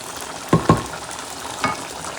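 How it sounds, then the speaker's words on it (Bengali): Potato slices fry in hot oil for a home iftar spread, giving a low, continuous sizzle. Two quick stirring clacks sound close together, then another a second later. "এই পাশে আমার আমি আলু ভাজা শুরু করে দিচ্ছি লাল লাল করে ভেজে নেবো"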